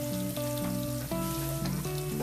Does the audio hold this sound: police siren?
no